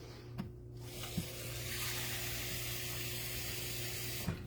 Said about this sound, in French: Je vais aller remplir ça d'eau parce qu'on a besoin d'une canne d'eau